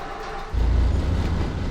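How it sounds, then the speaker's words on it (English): A Regiobus I200 bus engine idling in OMSI 2, a steady loud low rumble that swells partway in and holds with a constant droning throb. "So that's the engine sound, which sounds the same as the Citybus I260 and the I280"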